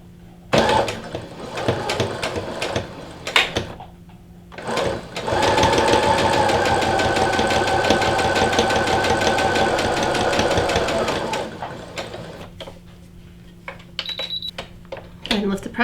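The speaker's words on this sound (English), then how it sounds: "I'm going to lower my presser foot, and then I'm going to begin stitching" A sewing machine stitches a fabric seam with the presser foot lowered, running in a steady, close whir for about six seconds with brief starts and stops around it.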